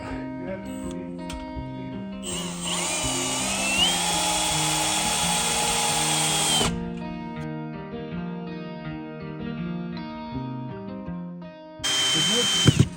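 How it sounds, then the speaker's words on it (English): Cordless screw gun driving screws into wood during an off-grid cabin build, a loud sustained whine from about 2 to 6.5 seconds and again near the end, over background music with people talking. "I just need you to hand me the screw gun"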